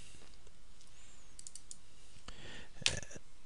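A computer mouse clicking to open a file, a few small sharp clicks spaced apart and heard close and alone against a quiet background hiss.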